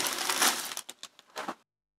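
Glass is smashed to make shards for pottery: a dense crunching crash, then several separate sharp cracking bursts that break off into silence.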